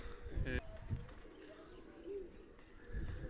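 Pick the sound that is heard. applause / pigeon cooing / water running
pigeon cooing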